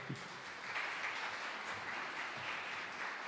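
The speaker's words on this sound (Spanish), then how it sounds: "Denle un aplauso al Señor." A church congregation applauds steadily for a few seconds, the clapping blending into a soft, continuous patter heard from some distance.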